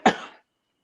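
A single short, sharp cough, close and fairly loud, then silence.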